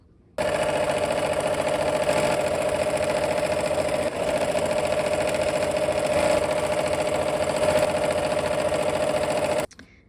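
A sewing machine runs steadily while stitching fabric for a floral bouquet quilt project, a continuous close mechanical whir lasting about nine seconds before stopping.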